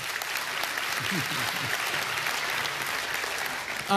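Steady, dense applause from a crowd, loud and continuous throughout.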